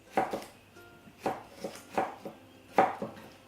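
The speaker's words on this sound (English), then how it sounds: "And then you can simply make thin slices" A knife cuts vegetables into thin slices on a board for a spicy coconut laksa, giving four close, crisp chopping strokes at an even pace, each with a softer follow-up tap, and no voices.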